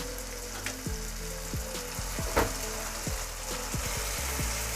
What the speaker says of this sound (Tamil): இந்த தக்காளி வெங்காயம் வதங்கின அந்த பேஸ்ட்டு கூடவே நம்ம இஞ்சி பூண்டு பேஸ்ட்டு சேர்த்துக்கலாம்